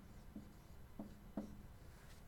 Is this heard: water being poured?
no